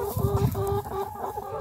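Layer hens cluck close by in a repeating, slightly rhythmic series of low calls over a light background murmur, no one speaking.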